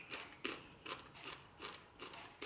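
Crunchy, lightly sautéed broccoli bitten and chewed close up, a run of six or so regular crisp crunches at an even pace with no talk.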